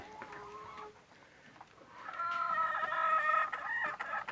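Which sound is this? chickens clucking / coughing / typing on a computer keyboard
chickens clucking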